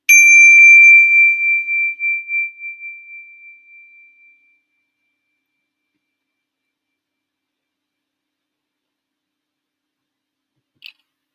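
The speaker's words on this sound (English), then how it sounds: "when you detect the vibration of my bell" A meditation bell is struck once, ringing out in a clear, bright tone that decays smoothly over about four seconds into silence, followed much later by a faint tiny click.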